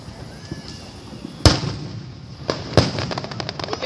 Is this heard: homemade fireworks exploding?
yes